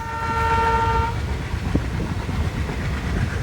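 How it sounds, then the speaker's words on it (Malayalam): A passenger train pulls out of Kilikollur station on the Kollam–Sengottai line. Its horn sounds one loud sustained blast, then the rolling rumble and rhythmic clatter of the carriages continue, heard up close from on board. "അങ്ങനെ കിളികൊല്ലൂരിൽ നിന്നും ട്രെയിൻ വീണ്ടും യാത്ര ആരംഭിച്ചു"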